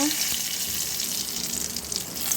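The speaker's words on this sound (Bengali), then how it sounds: "তেজপাতা, আদা দিয়ে ফোড়ন দিচ্ছি।" Bay leaf and ginger tempering sizzling in hot oil with panch phoron and dried red chilli, a steady, close, hissing crackle that runs without pause and holds an even loudness throughout.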